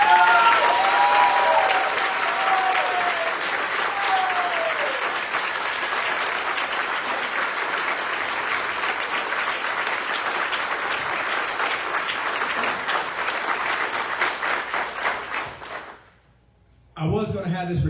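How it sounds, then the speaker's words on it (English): Loud, sustained applause from an audience at a Marine Corps retirement ceremony, dense clapping that carries on for about sixteen seconds before cutting out, with a few voices briefly over it near the start. "please, a loud, robust, thunderous round of applause for my mother"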